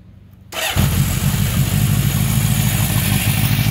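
A 1976 Honda CB750K motorcycle engine cranks and fires up after a quiet half second, then settles into a loud, steady idle close by with no voices.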